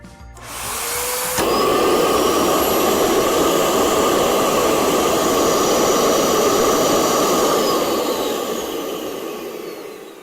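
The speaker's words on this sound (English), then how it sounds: "It's going to get pretty loud once I turn it on the vacuum." A loud, steady roaring whoosh from a vacuum forming machine starts up abruptly and holds for several seconds, like a powerful vacuum motor running close by, then eases off at the end.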